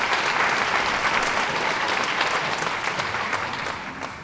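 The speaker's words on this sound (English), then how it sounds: "give Vicky a big, big round of applause" A conference audience at a health and wellness summit claps warmly to welcome a speaker, a dense, sustained round of applause from a full room that gradually tapers toward the end.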